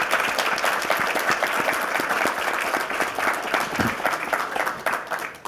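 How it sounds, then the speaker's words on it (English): An audience at a Los Angeles city attorney candidate forum gives a round of applause for a candidate: steady, dense clapping from a moderate-sized crowd that keeps an even level for several seconds before thinning at the end. "let's have a round of applause for the candidate"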